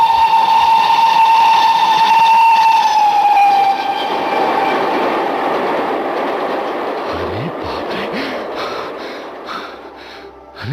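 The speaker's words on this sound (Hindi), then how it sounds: "अरे इस रेलगाड़ी ने तो मेरे पांव ही उखाड़ दिए थे।" A steam train sounds a long, loud, steady whistle up close, then the whistle fades as the heavy rumble and clatter of the passing cars carries on and gradually recedes.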